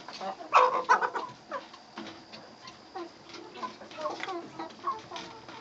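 Several chickens, roosters and hens, cluck and chatter irregularly nearby, with a burst of louder calls early on and soft background noise throughout.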